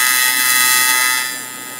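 An AC TIG weld on an Everlast welder with a NOVA torch and number 7 gas lens at 141 amps gives a steady, high buzzing hum that fades slightly toward the end; no talking.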